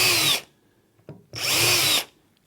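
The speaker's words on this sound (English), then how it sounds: "I'm now going to drill 3 holes." A cordless power drill whines in two loud, close bursts of about half a second each while boring holes through a drawer unit panel, with a brief click and quiet gap between them.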